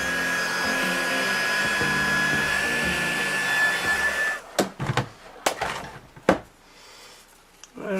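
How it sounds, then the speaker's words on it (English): A heat gun blows with a steady, close whirring roar while embossing a bouquet easel card, then cuts off about halfway, leaving a few sharp clicks and knocks. "And then we're going to take our heat gun"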